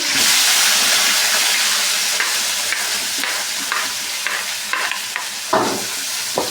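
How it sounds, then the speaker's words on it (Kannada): Three tomatoes added to a hot frying pan for thili saaru set off a loud, close, continuous sizzle and hiss, with scattered stirring clicks and a sharper burst near the end, and no voices. "ಟೊಮೊಟೊ ಹಾಕೋತಾ ಇದ್ದೀನಿ"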